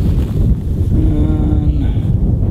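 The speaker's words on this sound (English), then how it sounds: "Well, it's pretty windy." Heavy wind buffets the microphone with loud, rough low-frequency rumbling throughout, masking faint background sounds.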